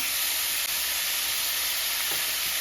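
Pupusa filling fries in a pan with a little avocado oil. A dense, steady hiss and sizzle runs loud and close without a break, and no one speaks.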